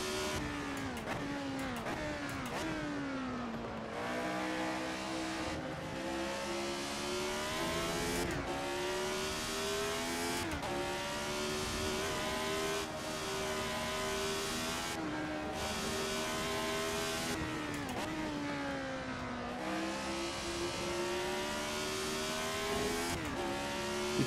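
A retro Formula One car in Assetto Corsa screams around Donington Park, its high-revving engine climbing through the gears in repeated rising sweeps, with brief dips at each shift and on lifts into corners, loud and continuous throughout.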